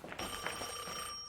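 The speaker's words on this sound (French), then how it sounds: "Téléphone, Dante, c'est peut-être elle" Cartoon telephone ringing indoors, a bright electronic trill with steady tones and a few rhythmic pulses, fairly loud and heard alone with no talk over it.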